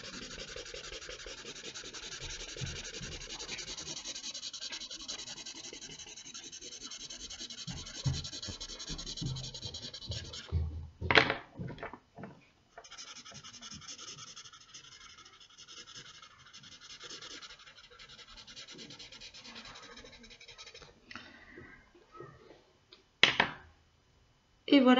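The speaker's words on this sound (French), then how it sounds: "On met en couleur notre tamanoir en fourrure marron." A crayon or pencil rubs and scratches across paper, coloring a drawing of an anteater brown; quiet, continuous strokes with brief pauses and a few sharper knocks near the end.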